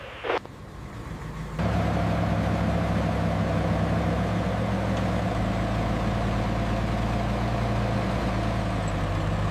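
A Panzer tank's engine runs steadily with a deep, loud low rumble as the tank exits its bay, a brief sharp noise at the start before the engine swells to full volume and holds.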